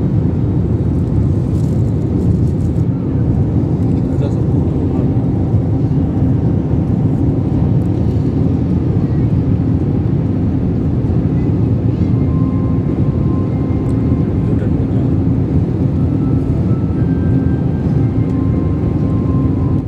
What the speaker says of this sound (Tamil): இப்போ சிங்கப்பூர் சுற்றி இருக்கிற தீவுகளுக்கு மேலே பறக்கிறோம்.